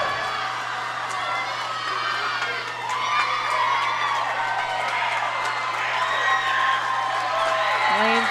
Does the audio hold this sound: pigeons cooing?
no